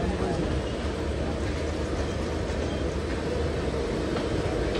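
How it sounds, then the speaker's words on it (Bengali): Howrah Purulia Superfast Express train in India making a loud, steady, close rumble that holds continuously without a break. "বন্ধুরা এটা হচ্ছে হাওড়া পুরুলিয়া সুপারফাস্ট এক্সপ্রেস"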